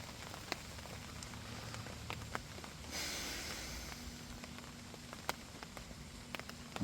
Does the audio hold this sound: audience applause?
no